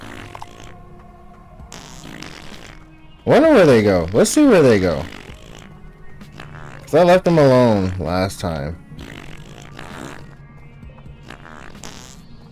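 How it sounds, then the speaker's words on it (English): Cartoonish fart noises from little construction workers in the video game High on Life, two loud bursts of sputtering, pitched farts separated by a pause, with someone talking over the quieter stretches and game ambience underneath. "Here's the farting little fucks."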